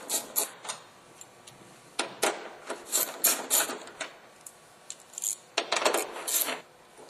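A ratchet with a 10mm deep socket removes nuts from an Oldsmobile Alero tail light assembly, producing close, quiet bursts of rapid clicking and ticking in several short runs.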